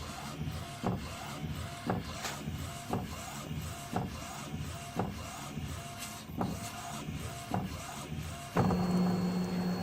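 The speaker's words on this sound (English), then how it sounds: "After print the white ink, we can start to print the color ink on the top of the white ink." A white-ink printer runs with regular rhythmic clunks of the print head carriage sweeping back and forth, about every half second, ending in a louder steady whir.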